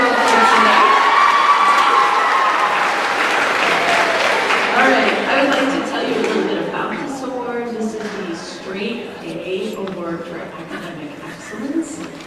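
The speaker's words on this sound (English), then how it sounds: "support them with a thunderous round of applause" A school awards night crowd gives students a big round of applause, loud dense clapping mixed with cheers and children shouting, gradually thinning into chatter and scattered claps toward the end.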